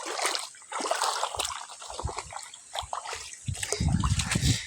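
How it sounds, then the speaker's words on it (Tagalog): Water of a small countryside stream flows and trickles close by in a continuous splashing babble, with a few brief soft thumps and a heavier splash near the end. "Ito pa pangalawang sapa na dadaanan natin."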